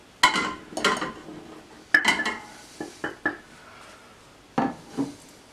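Flour being worked in a bowl to start bread dough, a series of close, sharp knocks and scrapes of a utensil against the bowl in irregular bursts with quiet gaps between.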